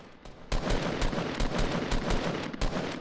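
Rapid bursts of gunfire in a shooting video game, loud and close, fired at a target in quick, uneven volleys.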